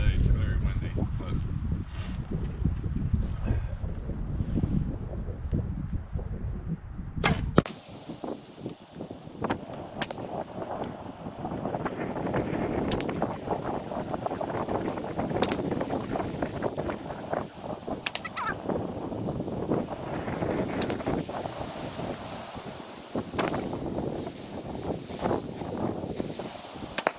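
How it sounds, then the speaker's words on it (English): Strong wind gusts buffet the microphone in a constant rumbling roar during outdoor recurve archery practice, with occasional clicks and faint voices mixed in. "It's very windy."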